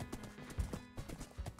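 Hooves clip-clop in a steady, quick rhythm as a horse gallops in the Wynncraft video game, sounding close and fairly quiet.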